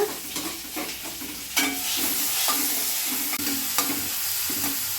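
Finely chopped onions frying in oil in a pan for bitter gourd kulambu, a steady close sizzle with spoon scrapes and occasional sharp knocks against the pan, no talking.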